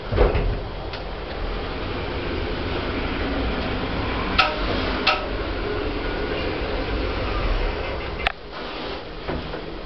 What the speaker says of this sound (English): Lift going up.